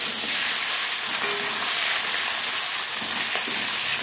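Rohu fish head pieces frying in a pan, giving a steady, loud, close hiss and sizzle of hot oil that continues without a break.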